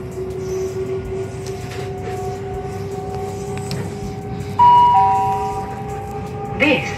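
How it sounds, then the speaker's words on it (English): Steady rumbling hum inside a moving Great Western Railway train to Newbury with a constant whine, then a chime-like electronic tone rings out briefly. "It's a little journey that I had back on the train the other day."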